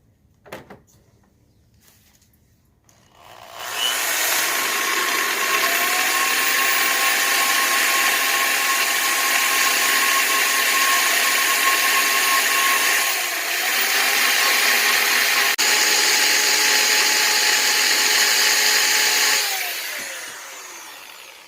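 A rasp bit grinding open the port of a Ford GT40 cylinder head, a steady high-pitched whirring rasp that runs continuously for most of the span after a quiet start, briefly dipping before carrying on and then stopping.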